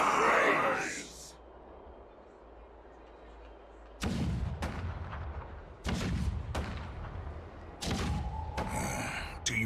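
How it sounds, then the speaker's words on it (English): Deep booming cannon blasts in the video game Honkai: Star Rail go off repeatedly at irregular intervals, heavy low thuds with rumbling tails like distant cannon fire. "The rumble of the cannons."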